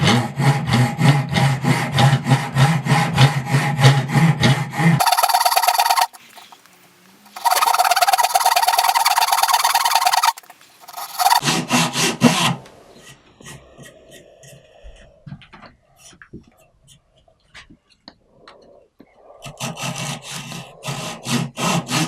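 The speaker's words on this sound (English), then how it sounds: "I've both pieces drilled now to cut the curve." A curve is cut by hand saw through wooden pieces that will form a bowsaw frame. Close, loud rhythmic rasping strokes come in bursts, interrupted by short pauses and quieter handling noises.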